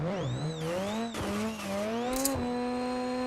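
In a racing video game, a car engine whines and shifts pitch, then tires squeal briefly under hard braking. The sound is loud and heard alone, with no talking.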